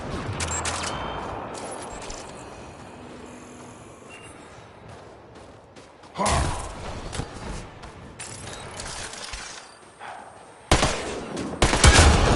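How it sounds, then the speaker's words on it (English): Gunfire from Mass Effect: Andromeda as a device is shot and destroyed: sharp bursts of shots crack out near the middle and again toward the end, standing out loudly over a quieter, steady background hum. "Shooting the device will destroy it."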